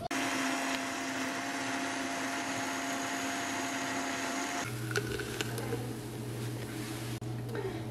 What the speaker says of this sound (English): Then throw in some ice and give it a blend.